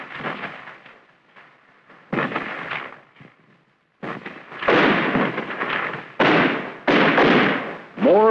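Small arms and mortar fire in a 1960s Vietnam ambush: repeated heavy thuds and crackling bursts, sometimes clustered and sometimes separated by short lulls, loud and fairly close.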